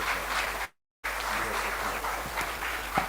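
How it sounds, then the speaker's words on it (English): An audience at a health and wellness marketing conference claps in a dense, steady round of applause, briefly cut to silence near the start before resuming just as full. "A big round of applause"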